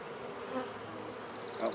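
A honey bee swarm fills the air with a steady, dense buzzing that stays close and even throughout, with no talking.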